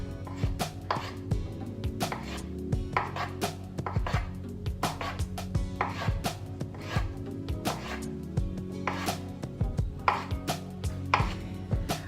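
A knife slicing through a peeled avocado on a cutting board: a steady series of sharp, close taps and chops, each followed by a short scrape, clear with no talk.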